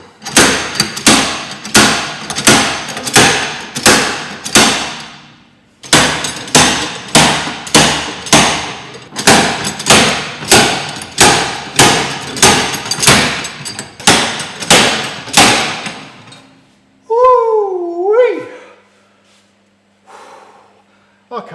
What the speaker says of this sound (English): a slide hammer is pretty handy sometimes